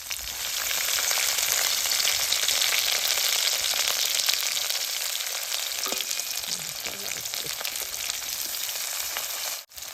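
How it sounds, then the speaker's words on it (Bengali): Raw garlic and green chilies hit hot mustard oil for a coriander-leaf pickle, producing a loud, steady frying hiss that fades slightly near the end and breaks in a brief dip, with no talking. "তেলটা গরম হয়েছে, কাঁচা রসুন কাঁচা মরিচটা তেলের মধ্যে দিয়ে দিব।"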